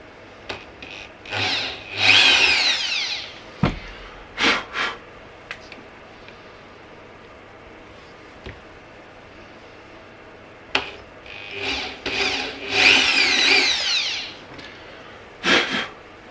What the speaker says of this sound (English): Just cutting the shim to size.